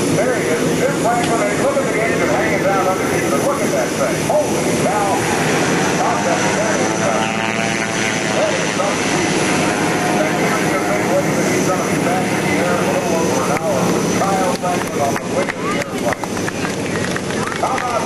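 Airshow plane with its engine slung underneath roaring overhead at AirPower Over Hampton Roads, a loud continuous drone with shifting pitch as it passes, with spectators talking over it.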